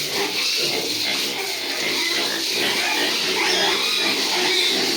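Pigs grunting and oinking in a steady, crowded chorus over a noisy background, with no pauses throughout.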